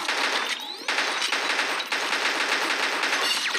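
Rapid sniper rifle gunfire in the mobile shooter game Pixel Gun 3D, a dense run of sharp cracks with whistling zips, steady and fairly loud throughout with no voices.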